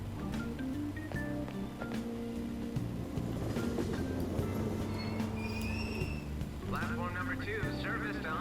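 A train at a station in the video game Persona 5 Royal rumbles steadily with rail clatter and a faint squeal, continuous throughout, with talking heard over it.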